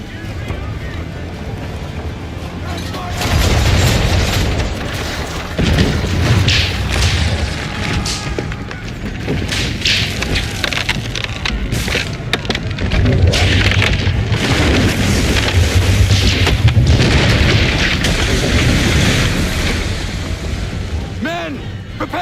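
Naval cannon fire during a ship battle in Assassin's Creed 3 Remastered: heavy booms roll out repeatedly over wind and sea noise, with shouting voices mixed in throughout.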